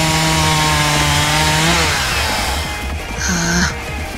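Chainsaw revving effect in a Spanish-language Chainsaw Man manga fandub, a loud continuous engine snarl that shifts pitch and dips briefly before roaring again, alone without speech.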